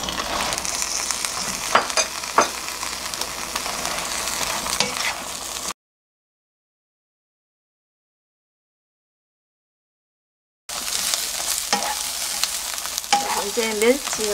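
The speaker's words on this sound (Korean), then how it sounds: "자, 이렇게 한 1분만 볶아주세요." Anchovies and shishito peppers stir-fry in a pan with a loud, close sizzle and repeated scraping stirs. The sound breaks off into a silent gap, then the sizzling and stirring resume.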